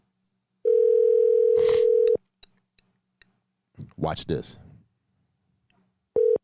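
A telephone tone sounds during an outgoing call, a steady pure tone lasting about a second and a half, then breaks off and returns briefly at the end; someone speaks a few words between them.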